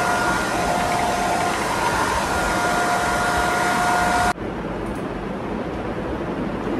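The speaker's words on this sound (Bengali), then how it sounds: "এই যে ড্রায়ার বের করেছি, ড্রায়ার দিয়ে চুলটা এবার শুকিয়ে নিই" Hair dryer blowing on damp hair, a loud steady whooshing hum that runs continuously for about four seconds, then cuts off abruptly, leaving quieter background noise.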